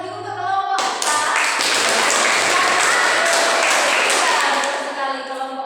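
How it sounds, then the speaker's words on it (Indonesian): A class of students claps for a group after a dance performance in a school lesson, a loud burst of applause that starts abruptly, holds steady for several seconds and then tapers off. "tepuk tangan sekali lagi untuk kelompok 4."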